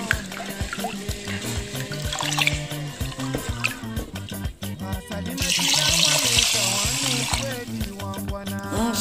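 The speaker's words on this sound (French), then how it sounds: "je vais commencer à laver le riz" Rice being washed in water for a Comorian moringa fish broth, with running tap water, splashing and trickling in a sink, close and fairly loud, a stronger gush partway through and some background sounds mixed in.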